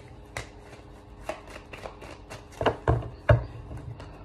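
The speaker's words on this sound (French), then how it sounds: "Archange Michael avec l'oracle des miroirs, 6 cartes, s'il vous plaît." Oracle cards from an Archangel Michael mirror-oracle deck are shuffled for a reading, giving a series of crisp, close riffling flicks and taps that grow louder toward the end, with no talking.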